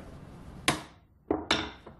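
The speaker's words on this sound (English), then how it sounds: "Hit it with a hammer." A ball peen hammer strikes a piece of steel in a workshop during a hardness test, three sharp metallic blows at close range with brief ringing decay, no talking.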